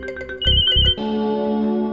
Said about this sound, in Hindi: अदिति का फोन है।